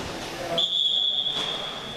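A referee's whistle at a Ramonville versus Marseille match blows one long, steady, shrill blast that runs to the end, over a noisy crowd background.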